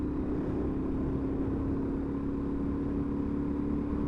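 A Suzuki DRZ400 motorcycle with an aftermarket exhaust idles nearby, a steady low throbbing engine drone with a faint hum, holding even and loud throughout.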